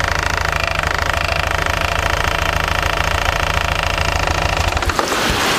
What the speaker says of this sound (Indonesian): ketika motor itu langsam suaranya kemeletek